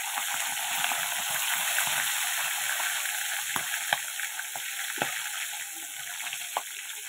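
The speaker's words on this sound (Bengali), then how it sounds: "এই যে মাছ দিয়ে দিচ্ছি, অল্প অল্প করে মাছগুলো ভেজে নেব।" Fish frying in a pan, a steady close sizzle throughout with occasional sharp crackles and pops, no talking.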